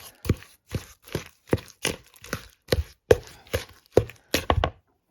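Salt mixed into an egg mixture in a bowl, about a dozen sharp rhythmic taps and knocks of a utensil against the bowl, close and fairly quiet, with no talk.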